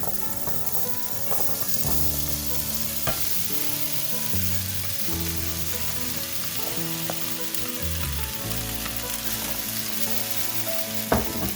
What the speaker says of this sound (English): Now that my skillet has heated up, I'm just going to add in all of the potatoes.